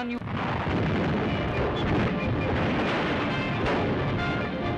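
Artillery guns fire in a war on the far eastern front around a burning Chinese city, heard as a dense, continuous roar of booms and blasts with no gaps, loud and rumbling throughout.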